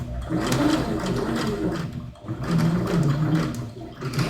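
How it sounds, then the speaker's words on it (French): Sewing machine stitching around the rounded curve of a patch pocket, a close, loud mechanical whirring run that pauses briefly midway and then resumes at a steady pace. "Et là, je vais bien suivre hein, la courbe avec mon pied de machine à coudre."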